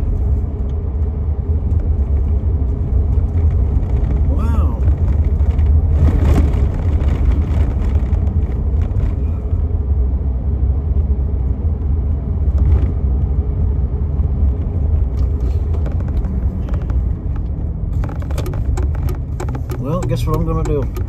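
An old truck's engine rumbles steadily as it slows on a road, a constant low drone with passing traffic noise and someone talking over it throughout.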